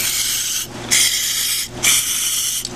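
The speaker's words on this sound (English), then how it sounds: "I'm squirting some electric motor cleaner in there to get all the grease out of the" Electric motor cleaner sprays from an aerosol can into grease-filled holes on a Ford 641 tractor part in three loud, close hissing bursts separated by brief pauses.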